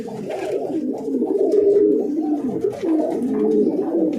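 Pigeons coo close by in a home loft, a steady overlapping run of low throaty warbles and soft rolling calls lasting throughout, with no talking over them.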